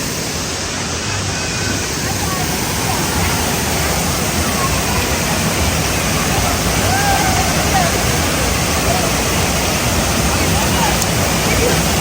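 Water pours down continuously at a hotel pool in Bodrum, a loud, steady rushing and splashing roar that fills the whole stretch with no break.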